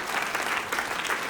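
A church congregation applauds at a sermon, producing a dense, steady patter of many hands clapping together in a brief burst with faint voices mixed in.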